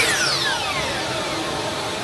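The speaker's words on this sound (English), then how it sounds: "Turn off my vacuum there." A shop vacuum in a workshop, used during a switch repair on a DeWalt DW705 miter saw, whirs steadily with a motor whine that glides downward in pitch, heard up close with no talking.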